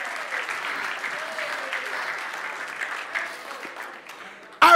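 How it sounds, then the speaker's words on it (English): An audience claps at a talk, a steady, moderately loud wash of applause that continues evenly and ends with a short, louder burst close by. "Some of y'all might even clap your hands."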